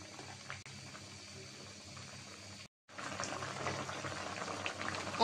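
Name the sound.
puti fish and radish curry simmering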